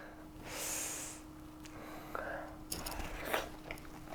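Close, wet chewing of spicy tteokbokki rice cakes, with soft bites, mouth sounds and breaths over a low steady hum.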